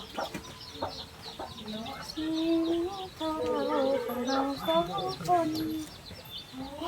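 Chicks and hens cluck and peep around a rural home, a busy run of short, overlapping calls that grows louder and more crowded midway through.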